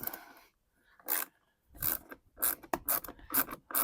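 Front license plate screws being driven in by hand, a few short raspy turning bursts with brief pauses between them, close and fairly quiet, no voices.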